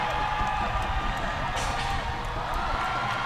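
Crowd cheers at a 2016 Asian rugby sevens match between Korea and Japan, a steady, dense roar of voices that holds loud and unbroken throughout.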